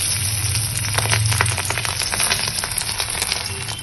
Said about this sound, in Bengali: এবার নুন হলুদ মাখিয়ে মাছটা আমি ভেজে নিচ্ছি